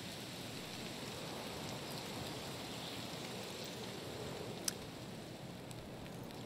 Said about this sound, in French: Et la pluie s'arrête.